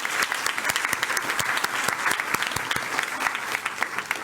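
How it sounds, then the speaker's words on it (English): Audience at a public speaking challenge gives a round of applause for program coordinators, crisp individual claps standing out over a steady wash of clapping, at moderate volume. "Let's give them a round of applause."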